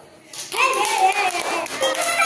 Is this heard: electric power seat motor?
no